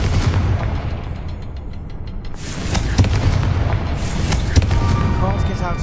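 Confringo fire spell blasts in the Hogwarts Legacy video game: several sharp, booming bursts hit one after another over a rumbling background, each with a crackling tail, while a voice speaks nearby.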